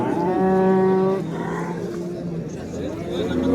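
A large adult cow at a livestock market lets out one loud, close, drawn-out moo, followed by market chatter and people talking nearby.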